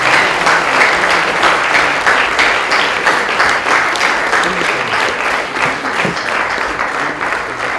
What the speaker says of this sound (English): Kindly keep the applause going.